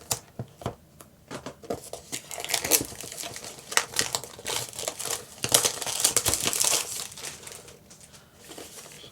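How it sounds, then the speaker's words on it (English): Plastic wrapping is peeled and crinkled off a Google Home Mini box with a knife, close and fairly loud, with irregular crackling bursts, scraping and tearing. "Let's peel this off with the knife."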